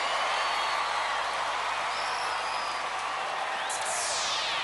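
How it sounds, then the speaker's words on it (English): Crowd noise at a Gladiators UK arena event, a steady broad wash of applause and murmuring approval held at a constant level throughout, with a faint whistle-like tone partway through. "The crowd approving of it"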